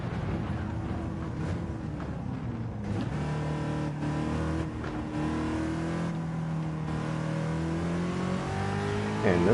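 Ford GT40 race car at Le Mans with its engine revving loud and close, pitch climbing and falling through several throttle pulls, a steady rasping drone throughout with a brief lift near the start.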